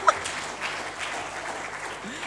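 A short burst of audience applause follows the end of a corporate social responsibility talk on employee volunteering, a moderate patter of clapping in a hall with a faint voice at the start.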